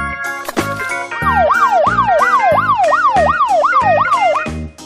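Police car siren in a children's vehicle sound set, a loud close electronic yelp sweeping up and down in a fast, regular repeating cycle over a steady background music beat.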